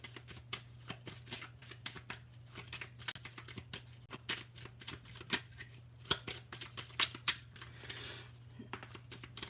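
Tarot cards are shuffled up close, producing quick irregular riffles and soft slaps in bursts, quiet and alone without speech.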